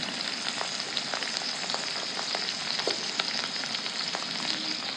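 Fish eggs frying in a pan with chopped onion, tomato, green chili, eggplant and potato. A steady, dense sizzle with small crackles runs throughout, close and alone.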